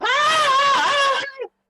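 A voice imitates terrified villagers screaming: one loud, sustained, wavering shriek lasting over a second, ending in a short, falling wail.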